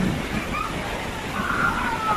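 Mahua waterfall in Tambunan on a rainy day, its water rushing as a steady, dense roar that fills the scene without pause.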